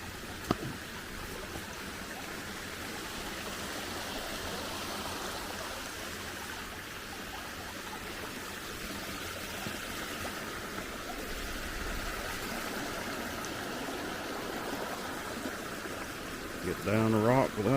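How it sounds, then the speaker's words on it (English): Creek water flowing over slick rocks at a hiking trail crossing, a steady, close rushing and trickling that runs evenly throughout, with brief movement noises near the end. "Got another creek crossing."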